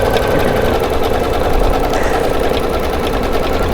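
An embroidery machine stitches out a design with a steady, loud, continuous mechanical whir and fast needle chatter, running alone without pauses.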